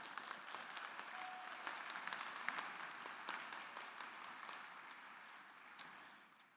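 A commencement audience applauds graduating students at a fall university ceremony, a steady, even wash of many hands clapping that sounds somewhat distant and soft throughout, with no talking.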